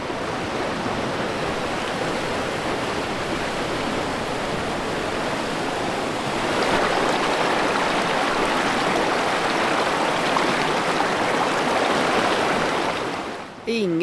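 A mountain river near Alvdal rushing steadily, a broad continuous roar of flowing water that swells slightly halfway through and stays loud and close, cutting off abruptly at the end.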